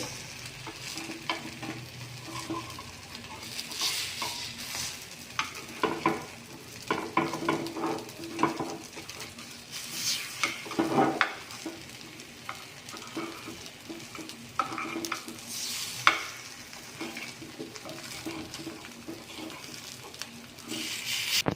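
Rava appe sizzling in an appe pan while the dumplings are turned over one by one, with a steady gentle frying hiss and scattered light scraping and tapping clicks.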